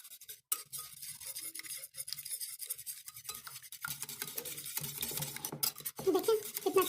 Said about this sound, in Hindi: इन्हें अच्छी तरह मिक्स करते हैं।